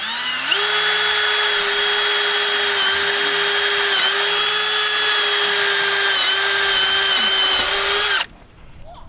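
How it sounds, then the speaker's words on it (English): A power drill boring a stud hole into a pig shelter gate runs steadily and loud for about eight seconds at a constant pitch, then stops abruptly. "see if we drill it in and make a stud hole"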